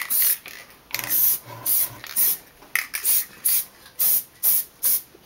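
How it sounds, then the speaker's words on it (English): Spray adhesive is sprayed onto the top edges of a paper photo box, giving about ten quick, close hissing bursts in an uneven rhythm with no talk. "make sure you spray that really well"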